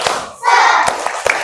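A primary school class claps a short rhythmic cheer together, quick hand claps and a shouted burst from the children, close and lively.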